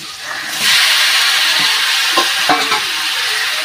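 Marinated mutton or chicken is tipped into hot oil with fried onion and garlic, setting off a loud, close sizzle and hiss with a few scraping stirs and clinks, and nobody speaking.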